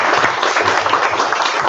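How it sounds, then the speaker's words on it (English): A lecture audience breaks into loud, sustained applause for a graphic design speaker, dense clapping from a crowd filling the room steadily from start to finish. "a big round of applause for Dan Stiles."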